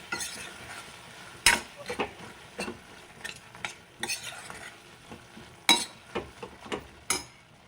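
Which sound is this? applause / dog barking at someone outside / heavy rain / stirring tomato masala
stirring tomato masala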